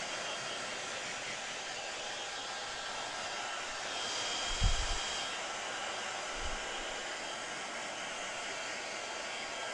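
A hair dryer blows steadily over a watercolour painting of a blizzard scene, a constant moderate whoosh with a couple of brief low thumps midway.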